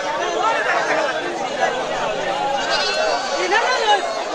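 Goats bleat repeatedly amid a busy crowd at a local goat market, overlapping with lively chatter and several people talking nearby.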